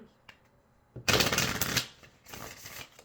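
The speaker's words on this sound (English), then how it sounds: "Just getting this shuffled." Tarot cards are shuffled in two loud, close riffling bursts, a long one followed by a shorter one, with quiet pauses between them.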